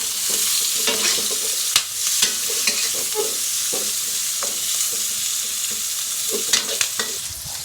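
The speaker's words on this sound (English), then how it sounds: "So you want to cook the carrots and the onions for just a few minutes" Carrots and onions stir-frying in plenty of oil in a wok over high heat for lo mein: a steady bright sizzle with repeated scraping and tossing strokes of a utensil against the pan, close and continuous, no speech.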